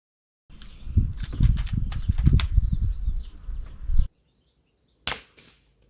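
An airgun with no suppressor fitted is fired over the target at close range: a few seconds of rustling handling noise, a silent pause, then a single sharp crack that trails off quickly.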